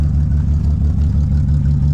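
A Chevy Nova's engine holds a steady, loud, low rumble, idling or revving lightly, with no voices over it.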